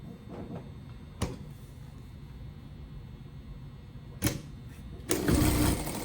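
A JACK A5E industrial straight-stitch sewing machine running through two folded fabric layers in a workshop hums quietly and steadily, with a few sharp clicks and a louder whirring burst toward the end; no speech.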